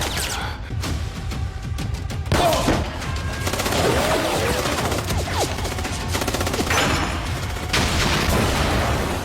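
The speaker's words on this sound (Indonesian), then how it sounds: "mendengar suara tembakan" Rapid bursts of gunfire crackle amid a loud, chaotic din, with booms and sharp reports overlapping continuously.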